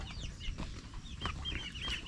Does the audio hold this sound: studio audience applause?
no